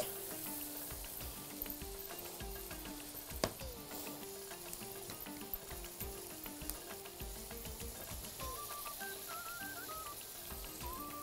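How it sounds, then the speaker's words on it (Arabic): Butter and béchamel powder stirred together in a pan give a steady, close sizzle with faint scraping and ticking. The sound runs alone under music-like tonal bits. "الزبدة وعليها بودرة البشاميل اللي هقلبها كده مع الزبدة كويس قوي"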